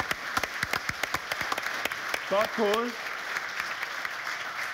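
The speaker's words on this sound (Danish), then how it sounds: "Det kan vi godt klappe af." An audience at a Danish conference session claps in scattered, crisp beats that keep a loose rhythm, with a brief voice speaking over the applause midway.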